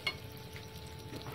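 Batter of grated coconut and glutinous rice flour fries in a pan with a steady, soft sizzle and a faint crackle at the start. No one talks over it.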